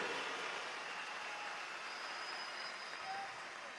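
Sustained audience applause at the gubernatorial swearing-in ceremony in Lara, Venezuela, a steady broadband wash of many hands clapping at moderate distance, fairly faint and even throughout without speech.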